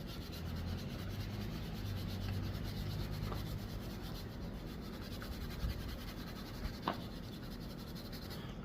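Fine 0000 steel wool rubs steadily on a Honda CT70 carburetor part, a continuous close scratchy scrubbing with a couple of small clicks, no talking.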